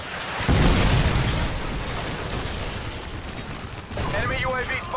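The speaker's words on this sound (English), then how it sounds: "Friendly predator missile incoming." Booming explosions from a predator missile strike in Call of Duty Modern Warfare 2, a loud sustained blast with scattered crackling and pops, and game voice lines heard alongside.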